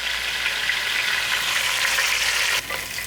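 Chicken thighs fry in hot oil in a pan, a loud steady sizzle with crackling that holds throughout and dips briefly near the end.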